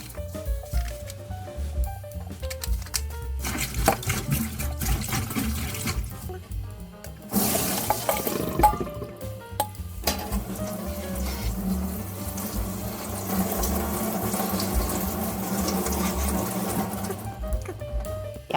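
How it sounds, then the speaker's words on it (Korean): Broccoli being washed under running tap water, a fluctuating splash and gush with intermittent squishy handling and patter, moderately close and without talk. "그리고 이제 브로콜리 세척하러 가겠습니다"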